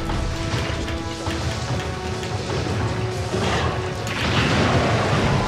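A bomb explodes in the Monster Hunter 3 video game amid a dense, loud wash of game noise, with crashes, booms and heavy impacts layered into a continuous roar.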